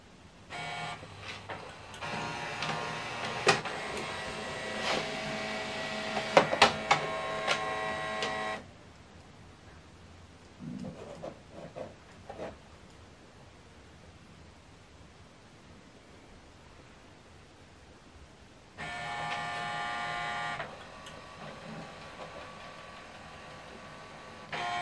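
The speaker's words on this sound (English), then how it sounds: "Scanning this document double-sided using ADF." An HP Officejet printer scans a double-sided document through its automatic document feeder, giving two long, steady whirring runs of motorized feeding with clicks and clunks between them, close by and without talk.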